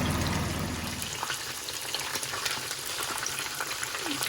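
Marinated chicken pieces deep frying in hot oil for Kerala fried chicken biryani, a dense, continuous crackling sizzle close by, with a heavier bubbling at the start that settles into steady spitting, no voices.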